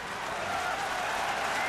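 Baseball stadium crowd at a St. Louis at Milwaukee game applauding and cheering, a dense, sustained wash of clapping and noise that stays steady throughout.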